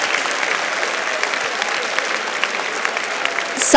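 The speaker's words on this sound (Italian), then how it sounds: "prenditi il tuo applauso, giustamente" Studio audience applauding on the X Factor talent show, a dense steady wash of many clapping hands at close range, sustained throughout and swelling slightly at the end, with no talk over it.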